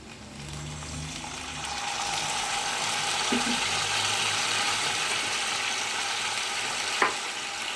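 Fried potatoes sizzle in a pan as a little water is added for a banana-flower kofta curry, giving a steady, close, hissing crackle that swells and holds with a faint clink near the end.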